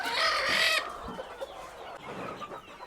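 Several hens cluck and squawk nearby in a poultry house, a loud burst at first, then softer intermittent clucking continuing in the background.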